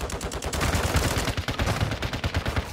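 Rapid automatic gunfire in Call of Duty Warzone Resurgence on Ashika Island, a close, loud, continuous burst of tightly spaced shots with no talking.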